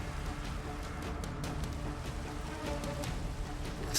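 Steady rain falls in a Minecraft Cobblemon world running a shader, a soft continuous patter of drops that holds at an even, moderate level with no voices.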